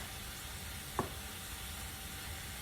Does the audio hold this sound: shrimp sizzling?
yes